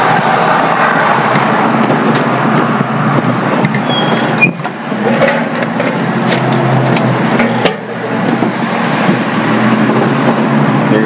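A FedEx delivery truck driving past on a residential mail route, a steady broadband rumble of engine and tire noise that swells and holds as it goes by, fairly loud and close.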